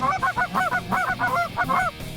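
Canada geese honk repeatedly in a rapid, overlapping series of loud nasal calls, close by and with no one talking.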